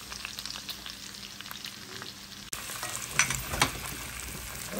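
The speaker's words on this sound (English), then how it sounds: "there's the eggs frying up" Steady sizzling and crackling of eggs frying in a pan, with occasional scrapes of a utensil stirring.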